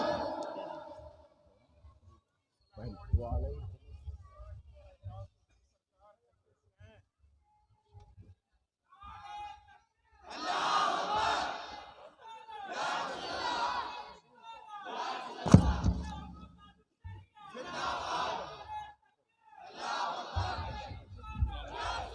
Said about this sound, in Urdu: نعرے تکبیر، نعرے رسالت۔